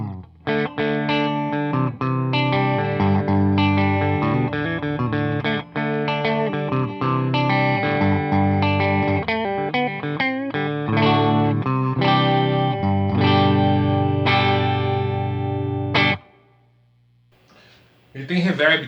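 Electric guitar played through a Bugera 6260 tube amp head on its clean channel into a Celestion G12T-75 and Vintage 30 cabinet, a light touch of digital reverb added, strumming chords and riffs continuously before falling quiet to a low hum.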